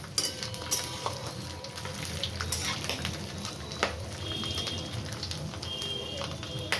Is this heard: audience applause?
no